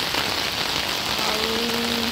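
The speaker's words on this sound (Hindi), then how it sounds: "बहुत जोर वर्षा स्टार्ट हो गला" Heavy rain pouring down in a dense, unbroken hiss, with a faint thin tone rising in the background toward the end.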